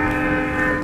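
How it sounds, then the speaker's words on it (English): A train horn blares in one steady, loud sustained tone, with no other sounds around it. "a train honking."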